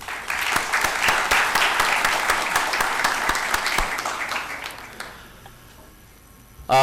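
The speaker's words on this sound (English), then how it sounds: "So a clap for yourself first." Conference audience at an infrastructure and ports event clapping, a loud burst of many hands with sharp individual claps standing out, sustained for several seconds before fading out abruptly into near quiet.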